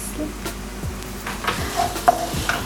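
Garlic and onion in a pan give a soft sizzle with scraping stirs and light clinks of a utensil against the pan, close and steady.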